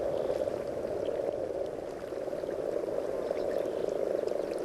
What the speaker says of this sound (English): The frogs call through their noses with their mouths shut.